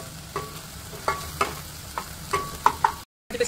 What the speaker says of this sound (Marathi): कांद्याबरोबर म्हणजे सिमला मिरची पण चांगली भाजली जाईल.